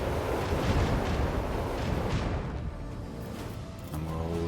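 Torpedoes strike ships in the video game Rogue Trader, producing a dense, rumbling wall of explosions that is loud at first, then thins into a lower roar with a tonal hum.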